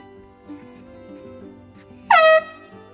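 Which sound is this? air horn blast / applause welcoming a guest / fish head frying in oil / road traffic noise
air horn blast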